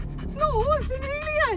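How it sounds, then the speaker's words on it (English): A dog whimpers and whines in high, wavering tones close by, while a person speaks over it. "You do realise that's a dog?"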